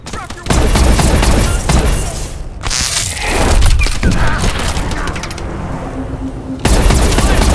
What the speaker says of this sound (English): These a-holes will shoot back.